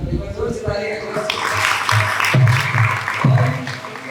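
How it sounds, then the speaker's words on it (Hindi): Audience applause at a Sunday Love Feast devotional gathering, a broad wash of clapping that swells after the first second and carries on under a voice and tonal sounds. "एक बार जोर से तालियां"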